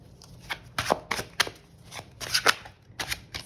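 Tarot cards shuffled and handled during a reading, a run of close, crisp riffling and slapping bursts in uneven clusters, with short quiet gaps between them and no talking.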